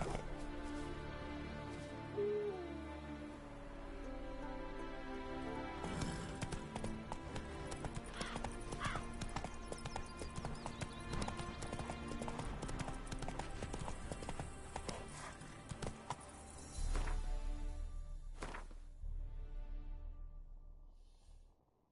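Hooves of Roach, a horse in The Witcher 3, clip-clopping steadily for about twenty seconds, with a whinny or snort early on and music and game ambience underneath, no speech.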